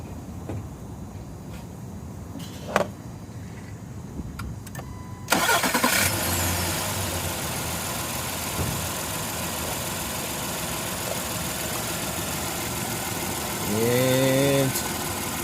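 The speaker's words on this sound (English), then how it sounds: "Start engine." A car engine cranks and catches during a battery startup test, then settles into a steady idle; a few clicks precede it and a voice speaks briefly toward the end.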